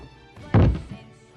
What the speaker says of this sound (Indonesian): Lux pun senang dong melihat Ricky pingsan dipukul olehnya